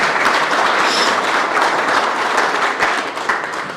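A breakfast audience at a chamber membership event bursts into dense, steady applause that fills the room throughout and tapers slightly at the close.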